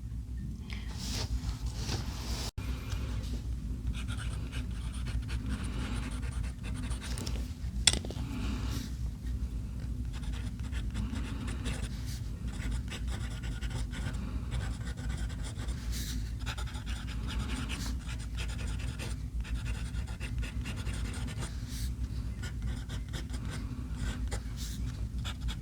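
A Platinum 3776 fountain pen scratches across paper in quick, continuous strokes, a soft dry rustle with small taps, close and steady throughout, with no talking.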